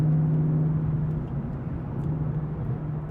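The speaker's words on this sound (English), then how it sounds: "This is the Corsa Extreme exhaust with the active valve" A Corsa Extreme active-valve exhaust set to track mode gives a steady, loud, deep drone, a low engine rumble held without rising or breaking off.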